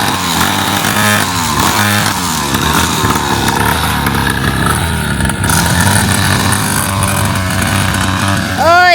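A motorcycle engine runs steadily and loudly close by throughout, its drone mixed with general outdoor noise and brief voices.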